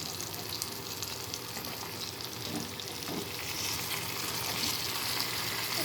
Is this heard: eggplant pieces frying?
yes